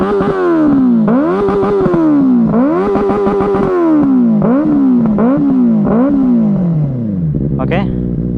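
Benelli 600i motorcycle engine revving repeatedly, close and loud, with rising and falling sweeps in quick bursts before dropping to idle near the end.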